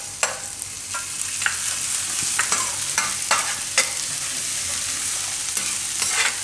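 Garlic fries in hot oil with a loud, continuous sizzle, broken by repeated sharp scrapes and clinks of stirring in the pan.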